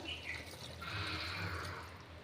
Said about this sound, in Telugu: ఒకసారి నేను 1 కప్పు వాటర్ అయితే వేసుకుంటున్నాను